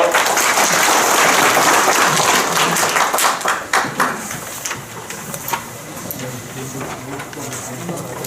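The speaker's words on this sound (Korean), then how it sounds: "박수로 맞이해 주시기 바랍니다" An audience at a Korean archery referee training session applauds to welcome a lecturer, with loud, dense clapping that thins into scattered individual claps toward the end.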